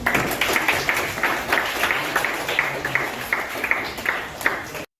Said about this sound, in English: I'm asking for a big round of applause.